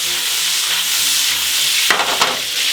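Lardons sizzle in a cooking pot for cassoulet, a bright steady frying hiss close by, with a couple of louder stirring scrapes toward the end.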